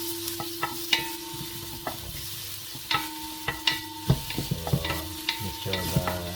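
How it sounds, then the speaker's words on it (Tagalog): Shredded garlic sautéing in a pan for a seafood tom yum soup, a moderate sizzle broken by repeated spatula taps and scrapes, close and with no talking. "Yan, may ating igisa yung ating garlic."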